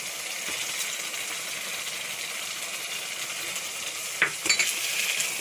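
Chicken kofta curry with cashew paste being stirred in a pan gives off a steady, soft sizzling hiss, with a few brief spoon scrapes and clinks near the end.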